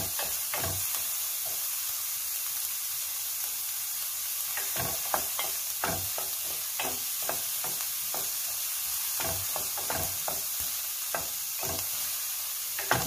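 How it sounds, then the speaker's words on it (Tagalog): Chopped garlic and onion sizzle steadily in hot oil in a pan while they brown. A spatula scrapes and clicks through the sizzle now and then, and no one speaks. "hintayin lang natin medyo mag-brown ito ating bawang at sibuyas"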